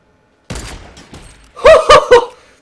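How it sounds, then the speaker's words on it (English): After a moment of silence, a sharp crack from a Fortnite sniper rifle rings out, followed by a few quieter thuds and then three strong, closely spaced loud bursts. "That's probably the best sniper shot I've ever done."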